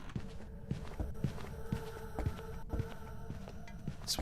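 Ghost footsteps in the Phasmophobia video game, a steady run of soft, evenly spaced thuds pacing around a nearby room over a low ambient hum.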